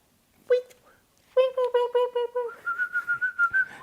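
A person whistles in imitation of a parakeet: a short chirp, then a run of quick warbling trills and a string of rapid higher peeps, close and clear.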